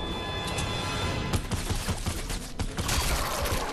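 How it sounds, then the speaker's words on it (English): Gunfire in the video game Fortnite: bursts of rapid shots crackle through a busy, noisy mix, loud and continuous with repeated sharp impacts. "Now who's shooting?"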